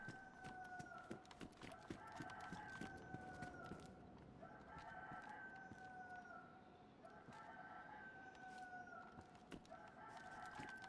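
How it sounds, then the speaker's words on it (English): A rooster in the video game DayZ crows over and over, its call repeating in a steady rhythm at moderate distance against a constant background. "That rooster."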